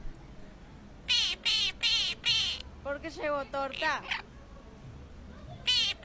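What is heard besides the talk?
parakeet calling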